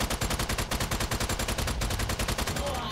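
Rapid automatic gunfire from a weapon in the video game Strange Brigade, a dense, steady stream of loud shots rattling for about three seconds without pause.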